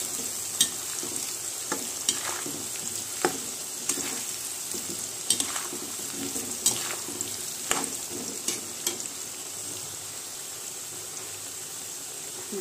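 Chopped ginger, potato, carrot and chili fry in a pan with moong and masoor dal, a continuous near sizzle broken by regular spatula taps and scrapes against the pan.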